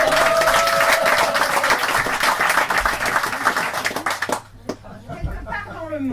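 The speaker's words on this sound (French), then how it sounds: "Un tonnerre d'applaudissements pour les poèmes de Micheline." Loud, dense applause from an audience greeting a reading of poems, a steady wash of clapping that lasts about four seconds before cutting off abruptly, with a voice following.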